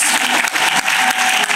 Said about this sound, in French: Offrande d'acclamation pour le Seigneur Jésus-Christ.